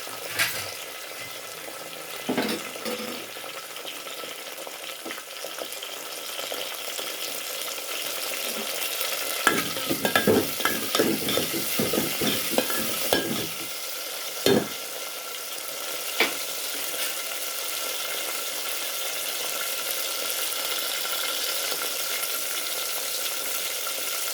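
Chopped tomatoes sizzle steadily in a hot oiled pan for eggplant curry, with a spoon scraping and stirring through in a burst of clattering strokes midway, then settling back into a continuous fry.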